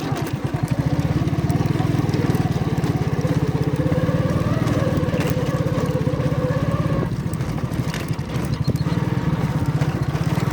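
Motorcycle ridden along a road, its engine producing a continuous loud, pulsing drone with steady rhythm throughout, mixed with road and wind noise.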